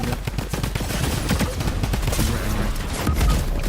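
Gunfire in a team shooter video game: rapid cracking shots and bursts fill the scene, dense and busy throughout, with a faint voice briefly underneath.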